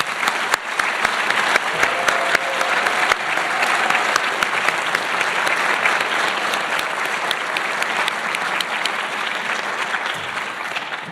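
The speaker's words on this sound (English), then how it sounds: "I'd like to ask for a final round of applause for the recipients today from everyone here in the" A large audience at a community award ceremony applauds the recipients with sustained, dense clapping that holds steady and close, with faint crowd murmur beneath.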